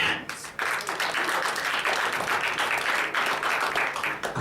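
Audience clapping at a hypnosis stage show, a steady, even patter of many hands sustained throughout at moderate loudness.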